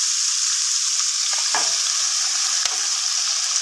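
Pepper and ginger are stirred in a hot cooking pan, giving a steady, loud hiss of frying with a few soft scrapes of the utensil against the pan and no talking.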